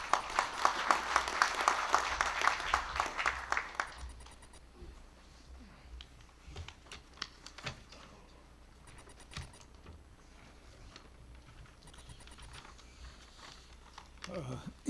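Applause from a crowd at a Korean union delegates' convention, a dense burst of clapping for about four seconds that thins out into scattered claps and quiet room noise.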